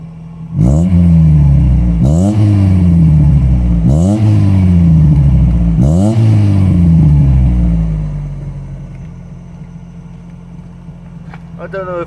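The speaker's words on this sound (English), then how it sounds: "just as you drop the revs, you get that little burble in the exhaust" A Rover Metro 1.1 engine with an aftermarket exhaust is blipped four times in a row, each rev climbing and falling sharply, then settles to a steady idle, loud and close by.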